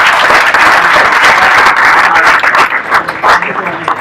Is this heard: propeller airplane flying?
no